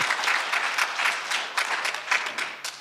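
A congregation at an Easter Sunday church service claps in a loose, uneven rhythm, with separate bursts of hand claps rising and falling instead of merging into a smooth roar.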